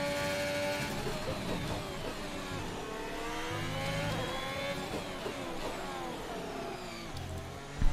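A Formula 1 car engine screams through a qualifying lap in F1 2021 at the Mexican Grand Prix, a steady high-pitched whine rising and falling with gear shifts, loud and continuous with no talk.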